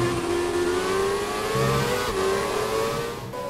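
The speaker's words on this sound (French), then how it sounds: "Le moteur Renault de la McLaren." Renault engine of a McLaren Formula 1 car in the F1 2017 racing game, a loud high-pitched continuous whine rising steadily in pitch, with one brief shift partway through.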